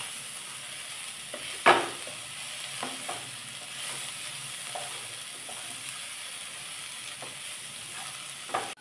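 Okra, onion and chopped tomato sauté in a pan over medium heat with a steady, soft sizzle. A few sharper stirring scrapes break through, one louder clatter comes near the start, and no one speaks.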